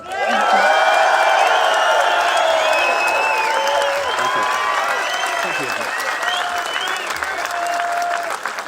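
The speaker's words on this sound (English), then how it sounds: "we're going to give an enormous round of applause for Mr. David Icke" A large festival crowd applauds loudly and cheers after a speech, with sustained clapping, whoops and shouts filling the whole stretch at near constant volume.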